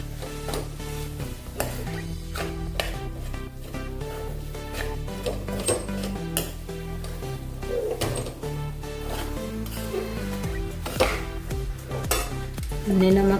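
Pea masala for a methi matar dish sizzles in a kadhai as a spoon stirs and scrapes, with repeated clinks and knocks against the metal over a steady frying hiss, close and continuous.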